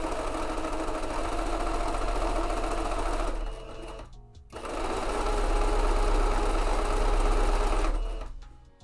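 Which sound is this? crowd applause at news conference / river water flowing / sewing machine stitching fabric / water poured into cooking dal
sewing machine stitching fabric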